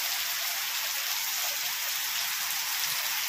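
Heavy rain with strong wind pours steadily onto a house in rural Odisha, India, a dense, even hiss that continues unbroken at high volume, with no voices.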